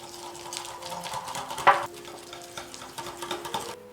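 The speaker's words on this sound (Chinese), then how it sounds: "手动搅拌让黄油变得蓬松" Softened butter being stirred by hand in a bowl until fluffy, a steady scraping and stirring texture with one louder clink midway, heard alone without talk.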